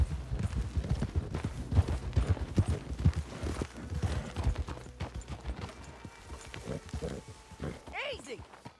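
Horse hooves in Red Dead Redemption 2 clip-clop in a quick rhythm, loud and close, with voices talking over them; a few higher chirping tones appear near the end.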